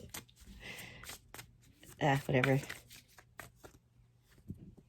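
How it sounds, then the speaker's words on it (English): A deck of playing cards being shuffled, giving a burst of dense riffling around the middle with lighter card handling before and after, close and fairly quiet, while a person talks over it. "Excuse my professional shuffling."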